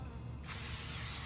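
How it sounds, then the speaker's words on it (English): A short hiss of olive oil sprayed onto fries before baking, starting abruptly partway in and continuing steadily and close, with a faint background hum before it. "I'm spraying just a little bit of olive oil"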